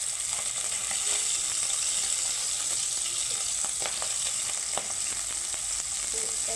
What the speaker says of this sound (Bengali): তো তেল দেওয়ার পরেও এতটা তেল ছিটকায়